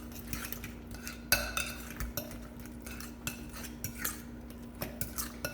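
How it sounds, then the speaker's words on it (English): A utensil clinks and scrapes against a bowl while guacamole is stirred with pink Himalayan salt and black pepper, a steady series of close knocks and scrapes with no talking. "I'm gonna mix it all around"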